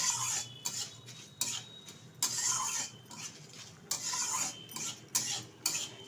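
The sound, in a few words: mung dal being dry-fried and stirred in a pan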